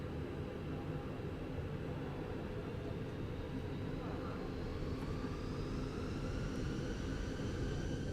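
Airbus A320 jet engines spool up for takeoff in Microsoft Flight Simulator, a broad steady roar with a rising whine gradually climbing in pitch, continuous and fairly loud throughout.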